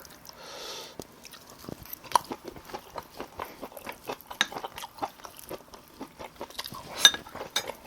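Close, wet chewing and biting of food, soybean paste stew with spicy stir-fried pork, a steady run of crunchy, smacking bites with a few light clinks of dishes and cutlery in the background.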